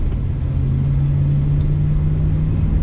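A 1966 Ford Mustang coupe's engine hums steadily with a low rumble and road noise, cruising at a constant pace from inside the vehicle, no voices.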